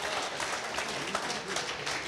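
Church congregation clapping together in praise, a dense, even burst of applause heard briefly throughout.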